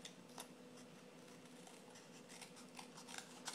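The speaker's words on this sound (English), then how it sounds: "I'm also going to cut this cup out" Paper scissors snip out a cup shape from cardstock for a handmade card, a series of soft crisp cuts in steady succession, close and fairly quiet, with no talking.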